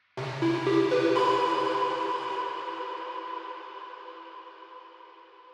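A bright, glassy Serum synth pluck chord is struck once and rings out, fading slowly over several seconds with a soft echoing tail.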